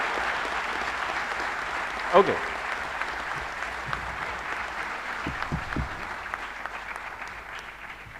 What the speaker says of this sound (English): So can you applaud as loudly as possible before we kick start?